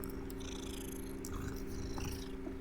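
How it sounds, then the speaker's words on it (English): A patterned cat in the Hogwarts Legacy video game purrs in a soft, steady rumble, close and continuous, with no talking. "there is another cat"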